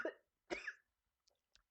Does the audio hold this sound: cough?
yes